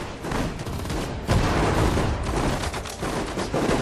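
Dense, continuous gunfire and machine-gun bursts roar close and loud without pause, rolling through a WWII Battle of Kursk fight with German forces in the strategy game Sudden Strike 4.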